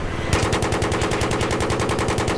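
Rapid automatic gunfire from Battlefield 3, fired from a Viper attack helicopter, hammers away in a steady, loud, continuous burst that starts abruptly and keeps a fast even rhythm.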